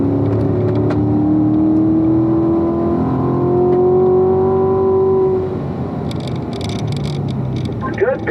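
Race car engine building revs out of a corner on track, a loud sustained drone with rising harmonics over several seconds, easing near the end, with a voice talking over it.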